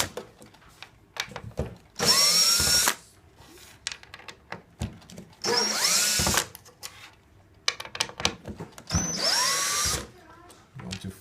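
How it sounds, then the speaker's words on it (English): Power drill pre-drilling holes for mounting a piece, three short loud whirring bursts that spin up and stop, separated by quieter handling noises and some low talk. "In order to mount this, I'll have to pre-drill the opposite side."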